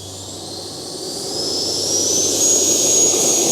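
An FMS Viper 90mm electric ducted-fan model jet spools up, a loud rising whine and rushing roar building steadily and alone, with a thin high tone climbing near the end.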